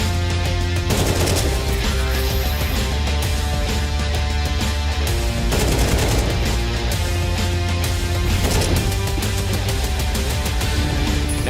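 Rapid bursts of AK rifle fire in a Counter-Strike 2 match at a major esports tournament, loud and dense, with repeated volleys across the whole stretch over constant game background.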